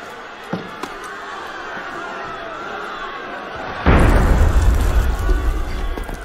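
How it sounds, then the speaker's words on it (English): A sudden loud boom of video game cannon fire in Assassin's Creed Unity erupts midway and rumbles on, following a quieter stretch of ambient noise with a couple of small pops. "That was cannon fire."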